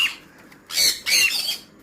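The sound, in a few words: cockatiel squawking as it is released from a box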